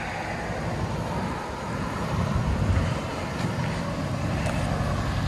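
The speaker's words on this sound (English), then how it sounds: "Muffler delete, 2019 Charger Scat Pack," Muffler-deleted exhaust of a 2019 Dodge Charger Scat Pack with the 6.4-litre 392 HEMI V8 gives a steady, deep, loud rumble that swells slightly midway, with no voices.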